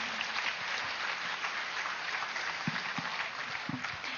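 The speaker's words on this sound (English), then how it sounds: "Can we have a huge round of applause for them" Steady applause from a sizeable crowd, a dense continuous patter of clapping with a few louder claps standing out.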